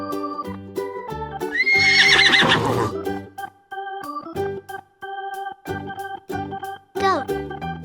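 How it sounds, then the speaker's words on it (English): A horse gives a loud, shrill whinny that rises and falls, followed by a second shorter neigh near the end, over a bright, plinking melody. "Horse."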